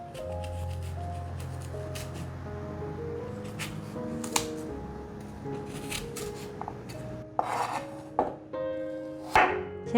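A knife chops apple slices on a cutting board, giving a run of crisp, close taps and thuds over a steady background, with a few sharper knocks near the end.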